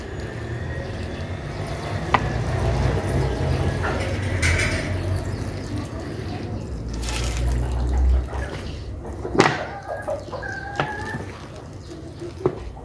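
Water poured onto oregano seeds sown in a PET bottle: a continuous soft splashing and trickling that swells and fades, with a few clinks and light handling noises near the end.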